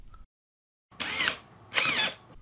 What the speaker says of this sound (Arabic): وتبدأ تشغل الشنيور على أقصى سرعة